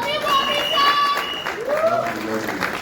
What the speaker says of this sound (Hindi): बॉबी देओल के लिए एक बार जोरदार तालियां